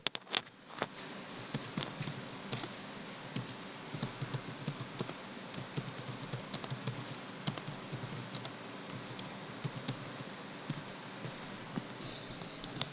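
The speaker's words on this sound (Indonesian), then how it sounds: "Saya ketikkan saja dulu" Steady, rapid typing on a computer keyboard while entering a Google Form quiz, with dense irregular key clicks running continuously at close range, no voices.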